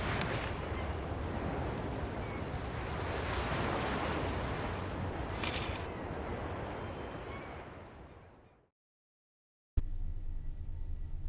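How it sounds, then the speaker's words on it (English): Ocean waves from the video game The Search wash in a steady, loud roar of surf with wind, then cut to silence for about a second before resuming. "The ocean is a little loud."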